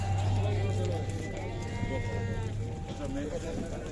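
Rams bleat repeatedly amid a busy, noisy crowd at a livestock market in Sokuluk, with people talking throughout and a low steady hum underneath.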